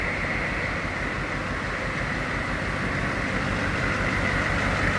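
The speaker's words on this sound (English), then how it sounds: "Sounds as you'd expect a diesel to sound." A 1992 AM General Hummer H1 Limited Edition with a 6.5 liter turbo diesel runs at a steady idle, a continuous low, even rumble close by with no talking over it.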